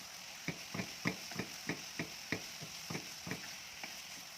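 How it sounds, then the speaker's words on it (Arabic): Onions stirred in hot oil in a pot, a spoon scraping and clacking in about a dozen distinct strokes at an uneven rhythm over a low, steady sizzle, close and fairly quiet. "نبدأ بقى نقلب لحد ما البصلة بتاعتنا تتشوح وتبدأ تدخل في السوا"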